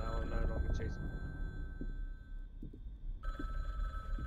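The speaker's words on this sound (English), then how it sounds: "The phone is ringing." Telephone ringing inside a ghost-hunting video game set in a police station, a thin repeating ring heard at moderate distance among game ambience and shuffling noises, with a gap before the ring resumes.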